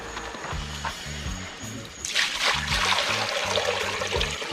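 Water pours into a cooking pot over a fire at night, with a steady trickling splash that grows louder and fuller halfway through, under rhythmic background noise.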